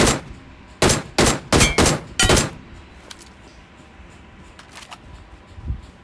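A burst of five loud, sharp gunshots rings out in quick succession in the PUBG Mobile video game during a crowded air-drop fight, followed by a few fainter distant shots.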